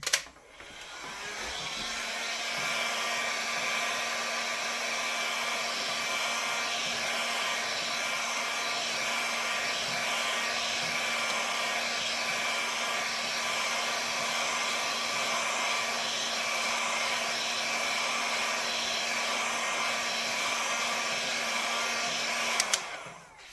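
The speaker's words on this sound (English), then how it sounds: "I could probably just apply a heat gun to kind of finish the deal here" A heat gun runs steadily for about twenty seconds, drying a miniature pine tree armature. It is loud, close and constant, with a clear start and stop and no talk over it.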